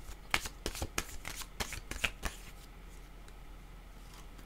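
Tarot cards are shuffled by hand in quick riffling bursts, a series of crisp, close flicking and slapping sounds that slow and thin out toward the end.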